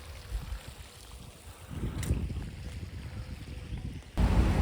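Ocean surf at Garachico on Tenerife's coast, heard outdoors as a steady rushing wash of breaking waves with gusty wind noise, swelling louder near the end.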